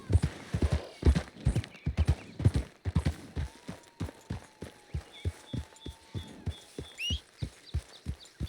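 A horse gallops in Red Dead Redemption 2, with rapid, rhythmic, close hoofbeats pounding steadily throughout, faint ambient game sounds and a brief bird call behind.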